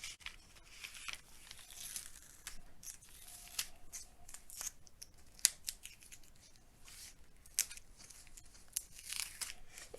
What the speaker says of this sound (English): So carefully take the tape off.